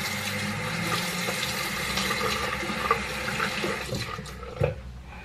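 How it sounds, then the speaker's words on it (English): Tap water runs steadily into a sink during handwashing in a home, a continuous splashing stream with a few small knocks near the end and no talk. "I'm gonna wash my hands real quick."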